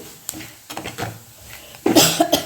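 A few harsh coughs from chilli fumes sound close by, a couple of short ones early, then a louder burst near the end.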